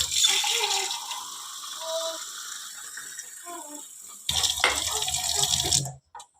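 A glass of water is poured over chickpeas in a pot for pressure cooking. A steady splashing pour runs for most of the stretch, grows louder and fuller near the end, then stops abruptly. No one talks.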